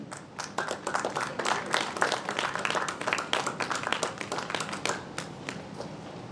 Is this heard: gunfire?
no